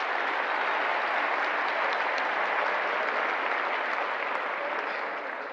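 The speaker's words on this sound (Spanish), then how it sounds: "vamos a darle ese aplauso," Sustained, dense applause from a large audience at a political gathering honoring a former guerrilla fighter, steady and loud throughout before easing slightly at the end, with no voices over it.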